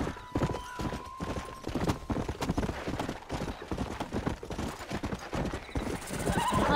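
In the western video game Red Dead Redemption, a horse's hooves clip-clop in a quick, steady gallop on hard ground, with a whinny early on, close and loud.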